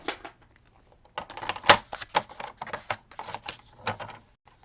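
Paper card stock being cut down to size for a handmade journal card, a run of close, crisp snipping and scraping sounds in uneven bursts with brief pauses between them.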